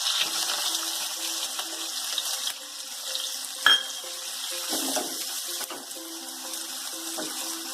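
Onions dropped into hot oil for Girmit, a gentle sizzling hiss with a brief clatter of the pan or utensil near the middle, then settling into quieter steady frying.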